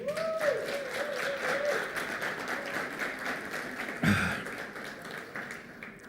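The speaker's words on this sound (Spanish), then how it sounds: "Y si ahora quiere dar un aplauso, délo." Church congregation applauding during a sermon, a steady wash of clapping throughout with a brief louder burst near the end, no speech over it.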